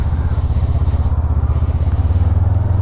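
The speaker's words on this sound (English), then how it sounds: "Sure are pleasing bikes, these Honda 500 twins." A 2024 Honda SCL500 twin motorcycle on a test ride, its engine thumping in a fast, even pulse close to the rider, with a steady drone and a slight rise in pitch near the end.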